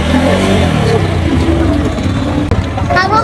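A motorbike engine drones and revs steadily as riders set off near a beach, loud and close, with people talking over it throughout.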